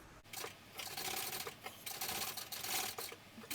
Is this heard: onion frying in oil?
no